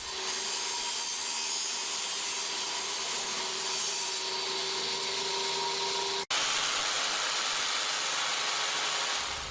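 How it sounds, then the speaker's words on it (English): A jigsaw cuts out a small notch in a 4-foot wooden board for a model railroad layout lift bridge, a steady continuous buzzing rasp throughout with a brief break near the end before cutting resumes. "you're going to have to jigsaw the rest of it out to make that little notch"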